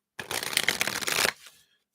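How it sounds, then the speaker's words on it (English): A deck of playing cards being riffle-shuffled close up, a dense crackling burst lasting about a second, then trailing off into quiet. "I'm shuffling these cards for the entire free readings."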